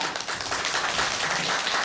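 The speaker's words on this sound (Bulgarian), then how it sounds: "да се поклоним и да получим истински аплодисменти" Applause from a live audience as young schoolchildren, first and second graders, take a bow after a dance performance; a steady, dense wash of clapping sustained throughout with no talk.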